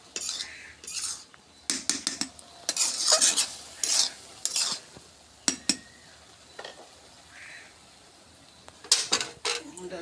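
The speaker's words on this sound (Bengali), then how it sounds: "ডালটা ঘাঁটে নেব।" A dal masher scrapes and knocks around a cooking pot of lentils with turmeric and salt, producing repeated close clatters and stirring strokes in irregular bursts, with faint background voice.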